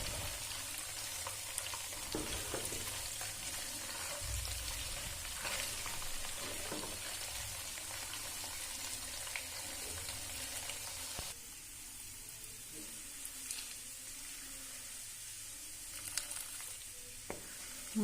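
Ghee cooking in a pan, a steady soft crackling sizzle with occasional small pops and stirring clinks, continuous and fairly close throughout.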